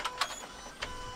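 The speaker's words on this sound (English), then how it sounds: "that's the injectors. And just priming the fuel pump." Subaru WRX fuel pump priming with injectors clicking after sitting four months: faint, close electric whirring with a few soft ticks and clicks, quiet and alone.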